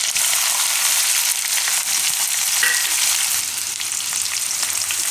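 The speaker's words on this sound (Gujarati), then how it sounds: "અડધીક મિનિટ માટે તેલમાં પાકવા દેવું।" Onions sizzle in hot oil in a pan with cumin and green chillies for a Gujarati mamra bateta snack, a steady close frying hiss throughout with no voices.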